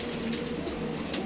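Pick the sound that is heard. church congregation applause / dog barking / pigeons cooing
pigeons cooing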